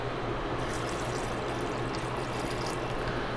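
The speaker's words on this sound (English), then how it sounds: "I'm just gonna top it up with water." Water pours steadily into a soup pot to top up vegetable stock for a creamy vegan sausage and potato soup, a continuous close rushing and splashing stream that stays even throughout.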